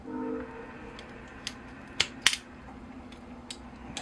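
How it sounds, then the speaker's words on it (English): An oak bonsai root is cut through while repotting a small tree, giving a few short, sharp snips and cracks close by, with two louder crunching clicks near the middle over a quiet background. "So I'm going to come in here and cut through this root here."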